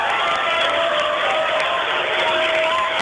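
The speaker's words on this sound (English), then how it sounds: "I'm having a hard time hearing my cues over the roar of this crowd" A roaring crowd at a girls basketball championship game, a loud sustained wash of cheering and applause that fills the space continuously without letup.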